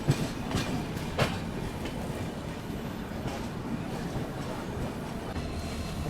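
Jogbani Kolkata Express passing on an adjacent track near Katihar Junction, heard as a steady, loud rumble of rolling wagons with a couple of sharp rail clacks near the start.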